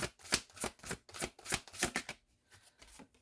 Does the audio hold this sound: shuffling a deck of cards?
yes